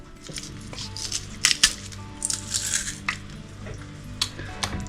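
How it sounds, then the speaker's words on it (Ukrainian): Garlic squeezed through a press into a pot of broth, a series of close squishing, crunching bursts with metallic clicks of the press, irregular and moderately loud, no talking. "Дістала все м'ясо е, з бульйона і зараз видавлю сюди чесничок"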